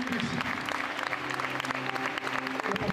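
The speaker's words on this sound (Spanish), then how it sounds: "levanta con un gran fuerte aplauso a todos los pastores" A congregation at an evening prayer gathering in Corrientes government house applauds the pastors, with dense, loud, continuous clapping filling the hall alongside a few voices.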